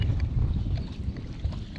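Wind rushes steadily past a sailing boat at sea off Menorca, a constant low broadband roar with faint gusting texture and no voices.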